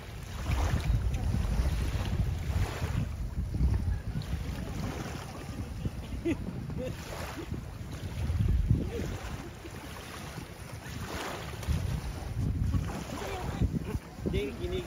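Strong wind buffeting the microphone at a beach resort, a steady loud rumbling roar with gusts and water sounds beneath, continuous throughout with faint voices.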